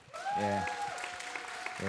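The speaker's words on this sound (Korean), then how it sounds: "우리 10일 여전도회를 위해서 다시 한번 박수" Applause during a Korean church Friday prayer meeting starts just after the opening and runs steadily underneath a prominent voice carrying over it.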